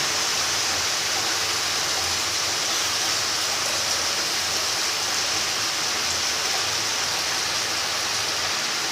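Water poured steadily into a cooking pot over a spiced mixture of potato, pointed gourd and prawn curry with cashew paste, a continuous close rushing splash with no voices.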